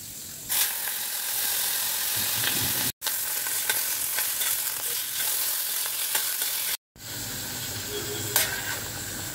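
Fish sizzles in a pan for a spicy fish curry, a continuous close hiss and crackle of frying oil that cuts out abruptly twice.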